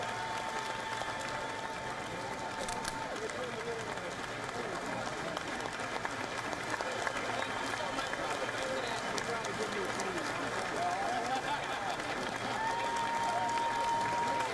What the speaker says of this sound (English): A raucous crowd here to welcome U.S. President Joe Biden to the Capitol building here.